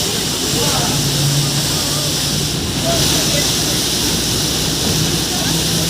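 A vehicle pushes through deep floodwater on a Kolkata street near Deshapriya Park after heavy rain, giving a loud, steady rushing wash of water with a voice talking over it.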